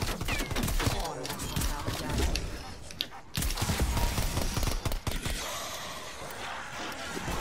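Rapid gunfire fills a zombies survival video game round on Firebase Z, dense and continuous bursts at loud level, with voices talking over the shooting.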